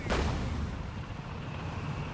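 One heavy anti-tank gun shot booms at the start in a Company of Heroes 3 battle, then a long rumbling tail fades into dense battlefield ambience.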